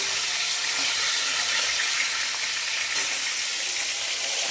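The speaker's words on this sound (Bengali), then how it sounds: "সবগুলো ভাজা হয়ে গেছে প্রায় এই কটাই আর বাকি আছে তাহলে মাছটা ভাজা হয়ে যাবে" Boal fish frying in a pan on a home kitchen stove, a steady, loud, close hiss and sizzle of hot oil running without pause, with no voices over it.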